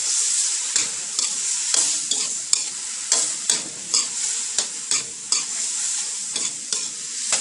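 Oyster mushrooms stir-fried with oyster sauce and sugar in a hot pan: a steady bright sizzle broken by repeated, roughly regular scraping strokes of a spatula, close and fairly loud, with no voices.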